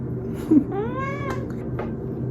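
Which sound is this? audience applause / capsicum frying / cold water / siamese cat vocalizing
siamese cat vocalizing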